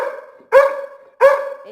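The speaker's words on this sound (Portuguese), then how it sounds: "Aí ele fica latindo" A pet dog barks twice in sharp, loud, close bursts about half a second apart, each bark ringing with a strong tonal yelp and separated by a quieter whining tail.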